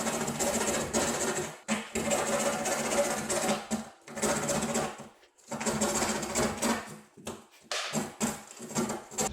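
A grinder cutting Hardiebacker cement board for tile underlayment: a loud, harsh, continuous grinding roar close by, broken by several brief stops and restarts.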